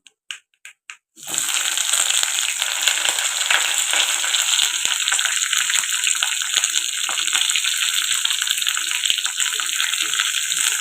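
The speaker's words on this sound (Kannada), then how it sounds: "ಒಣಮೆಣ್ಸಿಗೆ ಹಾಕೊಂಡು ಫ್ರೈ ಆದಮೇಲೆ ಇದಕ್ಕೆ ಈರುಳ್ಳಿ ಹಾಕ್ಕೊತಾ ಇದ್ದೀನಿ" Onions dropped into hot oil with curry leaves, cumin and dried chilies in a home kitchen, a few sharp clinks and then a loud, steady, close hiss of frying that carries on alone.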